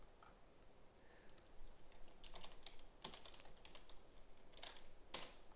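Keystrokes on a computer keyboard while code is typed, a quiet, irregular run of light clicks with a few sharper taps near the end, close and alone.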